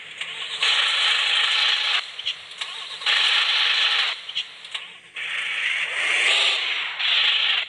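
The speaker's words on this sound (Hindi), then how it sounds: "देखो बहुत बढ़िया इंजन स्टार्टर वॉइस है।" An Ashok Leyland private bus engine starts in the video game Bus Simulator Indonesia: four loud, separate bursts of harsh starter cranking with short gaps between them.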